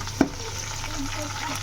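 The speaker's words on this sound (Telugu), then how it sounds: "ఇప్పుడు ఆనియన్స్ కూడా కొంచెం ఫ్రై అవనిద్దాం" Onions frying in a pan with a tempering of spices while cooking a cauliflower tomato curry, a soft steady sizzle with one sharp clatter near the start.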